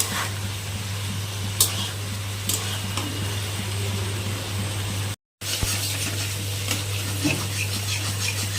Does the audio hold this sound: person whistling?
no